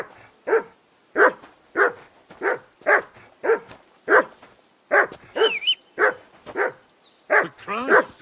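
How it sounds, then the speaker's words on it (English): A dog in the medieval video game Kingdom Come: Deliverance barks over and over, about a dozen loud, evenly spaced barks close by, with a whining yelp near the end. "Henry! Call off that damn dog!"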